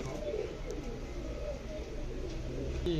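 Karnapura pigeons kept for sale in Tiruvannamalai coo softly and repeatedly against a steady low background hum, with faint chirps mixed in.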